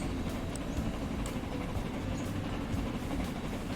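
A train runs along its line in the Transport Fever video game, a steady low rumble with faint rhythmic clatter, continuous and moderately quiet.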